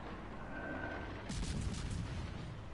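Battleship guns firing in a naval video game, deep rumbling booms that swell into a heavier blast partway through, with no voices over them.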